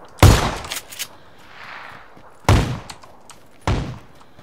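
Gunfire in PUBG: three loud, sharp shots ring out at uneven intervals with brief echoing tails, and a few smaller knocks fall in between.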